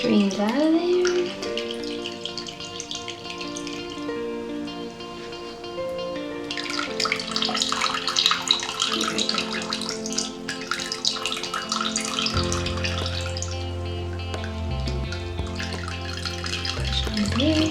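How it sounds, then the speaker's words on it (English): Elderberries and spice pressed through a strainer, syrup streaming and trickling in a steady, soft liquid wash, faint and close beneath background music. "Push on the berries until you get all of the good syrup."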